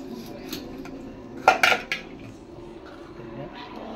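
Beaten egg is poured into a simmering egg kurma gravy and quickly stirred, giving a short cluster of metallic spoon-on-pot clinks and scrapes near the middle against a quiet kitchen background.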